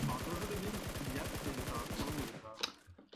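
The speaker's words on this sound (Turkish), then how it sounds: "Adamı ben vuruyorum hatta şu an." Rapid automatic gunfire in the mobile battle-royale game PUBG Mobile, a dense burst of evenly spaced shots for about two seconds, ending with a single sharp report, mixed with faint voices.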